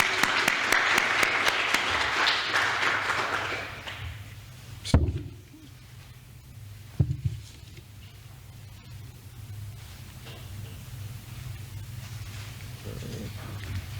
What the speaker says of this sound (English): So a round of applause for the Energy Commission.